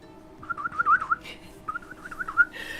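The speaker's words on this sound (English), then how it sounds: "The bird sang as if it were happy, and then disappeared into the night sky." Two short bursts of chirpy, warbling birdsong from a caged bird released in a Japanese visual novel game, light and melodic over a quiet background, separated by a brief pause.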